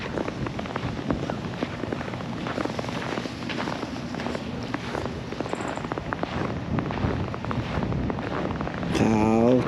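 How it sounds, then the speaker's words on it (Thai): Cold wind blows steadily on a snowy first morning of snowfall in Fort Worth, Texas, a broad, rushing roar buffeting the microphone throughout, growing slightly stronger near the end. "โอ้ลมเย็น ลมเย็นเย็น"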